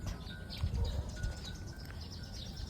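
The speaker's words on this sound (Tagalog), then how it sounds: "Ang sarap pakinggan ng ng ibon." Birds chirp in short, scattered calls at an outdoor art cafe park, fairly faint over a low rumble of wind and ambient background noise.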